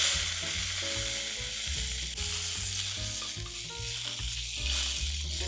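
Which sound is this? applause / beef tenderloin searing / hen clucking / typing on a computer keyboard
beef tenderloin searing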